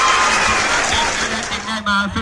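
A crowd applauds young players at the end of a school football match, scattered clapping heard under a voice talking over it.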